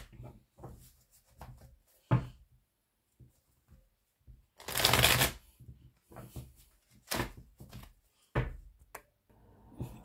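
Tarot cards shuffled by hand, giving intermittent soft riffling and slapping bursts with quiet gaps between, including one longer dense flurry in the middle.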